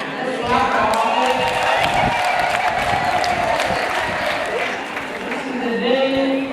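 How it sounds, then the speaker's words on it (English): A large crowd at an outdoor mass at Namugongo claps and cheers, a thick wash of applause with raised voices and shouts mixed in, loud and continuous throughout. "Let's clap for all."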